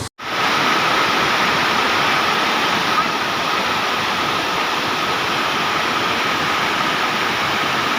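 Water pours steadily over the reservoir spillway at Srinivasa Sagara near Chikkaballapur, a loud continuous rushing roar close by that fills the whole stretch without letup.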